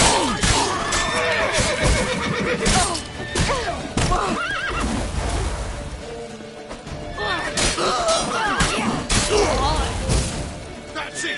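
Horse neighing and whinnying in a PS4 video game, several loud whinnies over clip-clopping hooves and crashing action sounds, with a voice talking at points.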